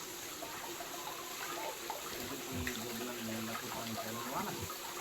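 Stream water flowing near a mountain temple in Karoonjhar, a steady soft rushing trickle at low level, with faint voices murmuring underneath.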